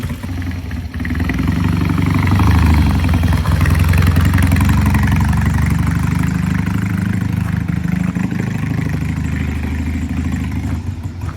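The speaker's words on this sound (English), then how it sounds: "Got it down to a pretty nice idle there, and it comes off nice." A Triumph T100 motorcycle engine idles steadily and loudly up close, a low, even, slightly clattering rumble with no revving.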